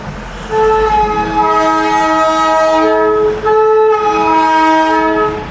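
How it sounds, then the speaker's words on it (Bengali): Darjeeling toy train sounds a long, loud horn in two blasts, a steady harmonic tone broken by a brief gap, heard up close over faint traffic noise while the train passes. "এই যে টয় ট্রেন যাচ্ছে,"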